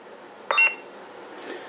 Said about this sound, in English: hold down the power button, you'll hear one beep, and then you hear a second beep